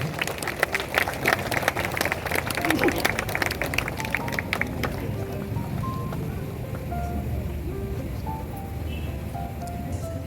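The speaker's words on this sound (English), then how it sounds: "Please give him a loud applause too." An audience at a church celebration claps for a student, with dense clapping in the first half that gives way to a quieter murmur and scattered room noise.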